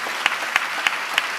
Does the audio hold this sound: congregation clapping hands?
yes